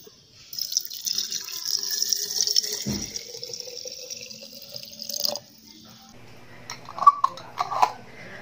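Hot water splashes and trickles as it is poured into a jar of salted rambutan for pickling, a continuous pour for several seconds, then a few clinks and drips.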